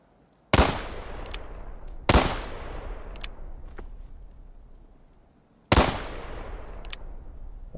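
Musket gunfire in the Civil War game War of Rights, in a winter setting: three loud, sharp reports, each followed by a long decaying echo, spaced unevenly with quiet stretches between.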